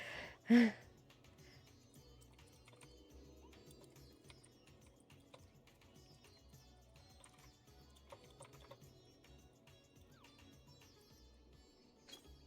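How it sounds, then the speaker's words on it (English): Typing on a loud computer keyboard during a Final Fantasy XIV gaming stream: one sharp, heavy keystroke near the start, then a steady run of softer, rapid clicks at close range with no talking. "I'm sure you can hear my typing. I'm sorry. I have a loud keyboard."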